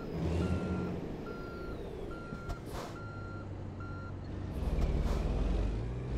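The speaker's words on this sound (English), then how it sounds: "I really hate that backup beeper." A truck's backup beeper in American Truck Simulator sounds as steady, evenly spaced electronic beeps over a low engine rumble, with a brief air-brake hiss and the engine swelling near the end.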